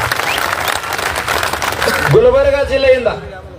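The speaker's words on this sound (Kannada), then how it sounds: "ಜೋರಾದ ಚಪ್ಪಾಳೆ ಮೂಲಕ ಧನ್ಯವಾದಗಳನ್ನು ಸಲ್ಲಿಸ್ತಾರೆ." A crowd at a gathering with a swami applauding loudly, a dense wash of clapping that stops abruptly as a voice begins speaking over the fading tail.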